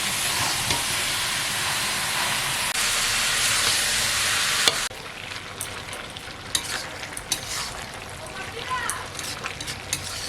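Chicken with cabbage and potato sizzles loudly in a pan, then quieter frying follows with sharp clicks and scrapes of stirring close by.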